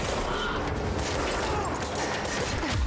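Punch sidearm in the game Control firing, a dense blast and rumble of heavy shots, loud and close with a brief crashing impact.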